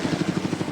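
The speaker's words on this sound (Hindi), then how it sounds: "ये हेलीकॉप्टर हमारे बॉयज को ऊपर हवा में ले जाएगा" A helicopter's rotor beats in a steady, fast pulsing chop, loud and close as it carries people up over an island, with no voices over it.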